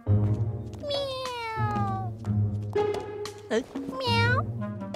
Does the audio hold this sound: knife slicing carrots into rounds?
no